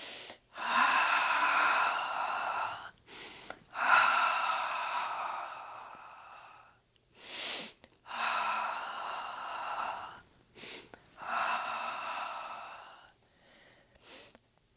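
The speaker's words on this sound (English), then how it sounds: "Inhale." Heavy, breathy sighing breaths rise and fall in a slow series of long pulses with short pauses between them, close to the microphone, during an exercise and meditation workout.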